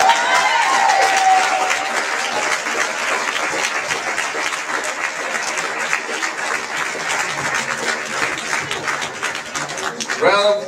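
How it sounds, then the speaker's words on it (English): Sustained applause from an audience at a charity talent show, dense clapping with some cheering that holds steady for about ten seconds, loud and close. "Round of applause for John."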